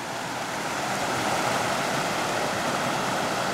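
Steady broadband rush of a creek flowing near a mountain campsite set back in the trees, continuous and fairly close, with no voices over it.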